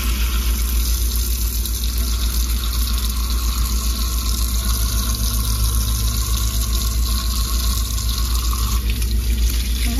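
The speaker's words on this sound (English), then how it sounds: "Let's check the water flow now." Water rushes steadily from an RV faucet fed through a filtration unit, a loud constant broadband hiss with a low rumbling hum beneath, unbroken throughout.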